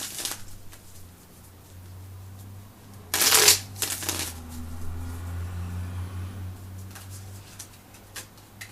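A deck of tarot cards is shuffled by hand close up: a steady papery riffling with a loud, sharp burst of flicking cards in the middle, over a low constant hum.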